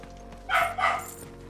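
A dog in the video game Final Fantasy XVI barks twice in quick succession, close and clear over a quiet game background.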